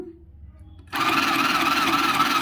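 A sewing machine stitching fabric starts abruptly after a short quiet moment and runs at a steady, fast, close whirring pace with no pauses.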